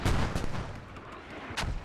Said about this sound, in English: More mortars coming in.